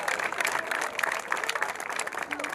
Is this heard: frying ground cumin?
no